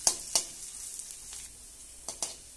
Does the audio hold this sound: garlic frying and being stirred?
yes